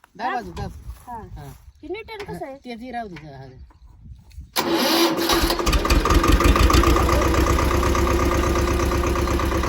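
A voice talks first, then a Swaraj tractor engine starts up and keeps running with a loud, steady rumbling chug close by.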